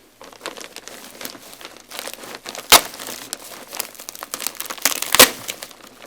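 A shirt's packaging, a small taped puff bag, crinkles and crackles as it is handled up close, with a steady run of plastic rustling and a couple of sharper crunches.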